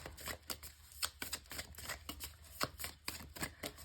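Tarot cards being shuffled and drawn during a card reading, giving a quick series of crisp riffling flicks and slaps at close range, steady and moderately loud with no talking.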